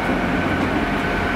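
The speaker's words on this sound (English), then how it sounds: "Oh, the puppy train." A passenger train runs through Cardiff Central station, a loud, continuous low rumble of rolling wagons heard close by with no voices.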